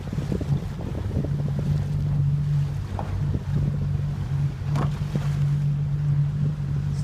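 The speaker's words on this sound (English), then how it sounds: "Just by fanning the boat like that, it gets an extra bit of boat speed out of every manoeuvre." A sailing dinghy jibing on a run while the sailor fans the sail, heard as steady wind and water noise with a low hum, the rig and hull giving a few soft flaps and knocks.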